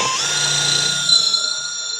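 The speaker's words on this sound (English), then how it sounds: "I'm just going to drill this out" A power drill whines steadily as it bores out 5 mm rivets on a Fiat 500 rear bumper, with a high, sustained tone that lifts slightly in pitch near the start and runs close and clear.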